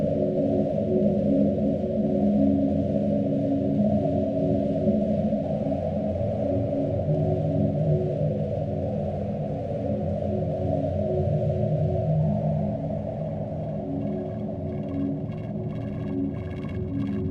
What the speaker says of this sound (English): Did the Apollo 10 astronauts hear strange space music while on the dark side of the moon?